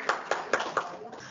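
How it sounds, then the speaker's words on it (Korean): A handful of spaced, quiet hand claps from a small audience welcoming presenters to a Korean Power BI tech session, about four distinct claps in a slow rhythm that fade out. "큰 박수 부탁드립니다"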